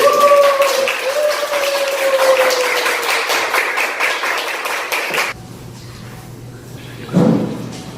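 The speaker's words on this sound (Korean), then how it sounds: "여러분 큰 박수로서 안녕하도록 하겠습니다" An audience of Sunday school students at a church claps under a speaking voice for about five seconds before the applause stops abruptly, leaving near quiet and a brief voice.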